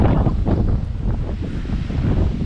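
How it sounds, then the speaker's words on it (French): Strong wind buffets the microphone at the seaside in Brittany after a storm, a steady loud low roar with surf rumbling underneath, no voices. "je suis pas tout à fait face au vent. Il vient me prendre légèrement sur le côté."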